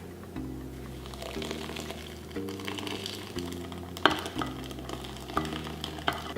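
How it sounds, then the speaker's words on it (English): An aromatic mixture for a Cambodian prahok dipping sauce is poured onto lemongrass and sizzles with stirring and scraping, steady and moderately close, with a few sharper clinks along the way. "And then we're gonna pour this mixture into the lemongrass."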